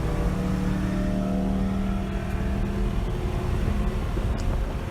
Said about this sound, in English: Made an early downshift going up into 1 here. Really revved the engine hard.